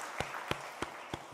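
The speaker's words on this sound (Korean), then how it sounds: "우리 박수로 환영하도록 하겠습니다" A church congregation claps in welcome for a visitor at a Sunday morning service: four slow, evenly spaced hand claps, faint and distant in a quiet hall, with no voices.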